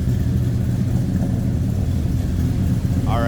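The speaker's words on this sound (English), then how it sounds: "That's Dynaflows through Hedman headers." 1970 Chevelle engine burbling through Dynaflow mufflers and Hedman headers, a steady low rumbling exhaust heard up close and fairly loud, with no talk over it.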